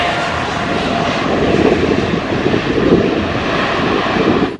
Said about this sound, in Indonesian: Ini namanya pesawat terbang.